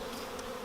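Honey bees buzzing in a steady, continuous drone while being flicked off a capped honeycomb with a brush during honey harvesting, close and moderately loud.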